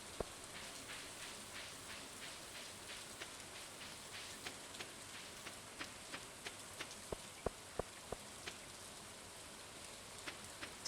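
Quiet steady rain falls in Stardew Valley, a soft hiss with a scattering of sharper drip taps that grow more frequent toward the end, faint and alone with no voices.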